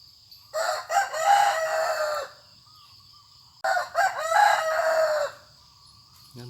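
A rooster crows twice, each call a long, loud cock-a-doodle-doo about three seconds apart, in an otherwise quiet outdoor setting.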